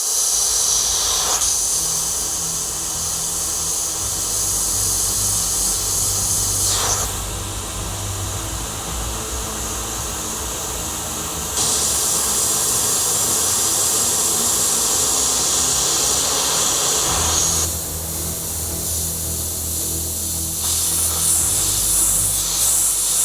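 Close, loud airbrush spraying of paint comes in long hissing bursts that start and stop several times, with quieter gaps between.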